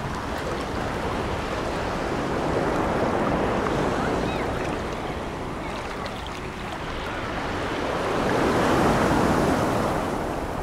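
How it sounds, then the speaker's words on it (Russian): Sea waves breaking on a beach at a resort in Alanya, a continuous roar of surf with rising and falling swells, close by and loud, mixed with wind buffeting the microphone and no voices. "Волны, блин, большая была."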